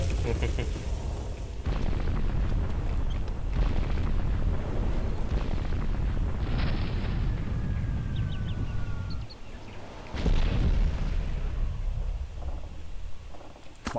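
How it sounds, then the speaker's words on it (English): A large blast in the airship combat game Air Buccaneers, a long, loud, low rumbling roar that swells again after a brief dip, with faint chirps over it and no talk. "I think I died in the explosion"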